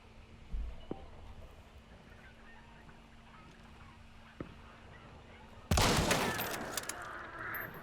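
Vetterli rifle in Hunt: Showdown: after a quiet stretch with faint scattered noises, one loud, sharp shot cracks out near the end and rings off with a lingering tail.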